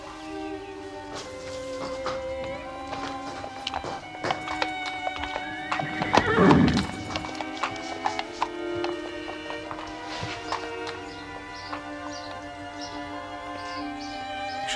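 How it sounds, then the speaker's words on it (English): A racehorse named Shoscombe Prince, a stabled thoroughbred, clip-clops and whinnies nearby, with a louder neigh and stamping near the middle amid steady background sounds. "I'm the only one with a horse like Shoscombe Prince"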